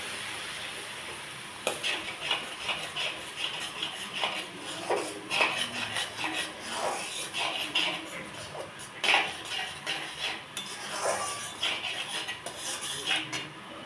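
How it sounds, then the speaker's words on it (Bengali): Masala with ground yogurt and cashew paste is stirred hard in a pan over a high gas flame, a close busy run of metal spoon scrapes and clatters over a soft sizzle. "আর গ্যাসটা জোরে করে দিতে হবে, আর এটাকে খুব করে নাড়তে হবে।"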